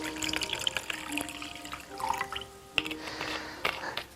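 Distilled vinegar splashes and trickles over a grimy boat bilge part in a container, with irregular drips, small knocks and liquid sloshing, close and fairly quiet.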